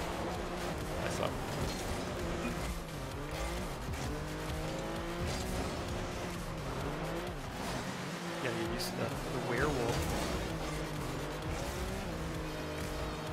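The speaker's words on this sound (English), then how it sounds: "I do like its engine noise, though." A car engine in the video game Rocket League revs and whines steadily, with occasional tire squeals, while people chat over it.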